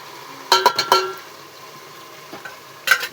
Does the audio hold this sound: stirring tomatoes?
yes